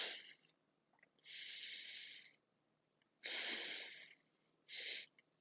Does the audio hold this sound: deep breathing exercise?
yes